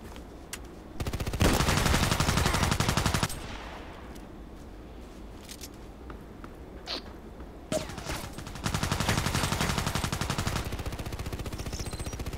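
Gunfire from a sniper rifle in a video game shooter on the map Interchange: loud sustained bursts of rapid, repeated shots come in two stretches, with quieter sporadic sharp cracks between them.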